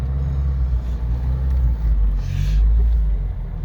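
A 1956 Ford Anglia 100E with a 3-speed gearbox backing up in reverse, its engine a steady, loud low rumble close by that swells slightly toward the end.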